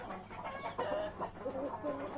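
Broiler chickens clucking steadily in a noisy farmyard, several overlapping calls close by against constant background hum.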